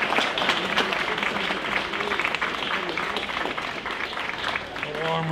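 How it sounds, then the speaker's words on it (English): Rugby crowd at an Ireland Students versus France Universities match clapping in steady, moderately loud applause that carries on for several seconds, with some murmured voices mixed in and a faint tone near the end. "A warm round of applause for the Corkmen"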